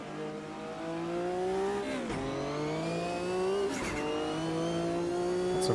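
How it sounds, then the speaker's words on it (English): Race car in the sim game Automobilista 2 holds a loud, steady engine note, with brief chattering wastegate bursts around two quick gear changes. "Lots of lovely wastegate chatter sounds going on."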